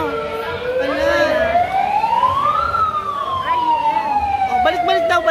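A wailing siren sweeps up and falls back at a street parade for a male pageant finals in Manila, loud and continuous at close range over crowd noise, with a few sharp clicks near the end.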